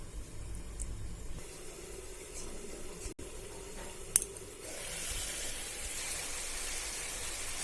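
Curd cauliflower curry simmers covered in a pan, giving a steady, soft bubbling and hiss close by, with a brief clink partway through and a slightly louder, brighter sizzle toward the end.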